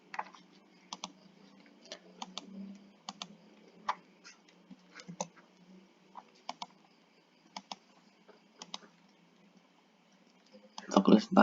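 Computer keyboard typing in short irregular bursts of clicks with pauses between, as student data is entered into a form, with a louder cluster of keystrokes at the end and faint voice.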